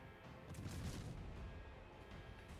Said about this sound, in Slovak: Niekto po ňom strieľa.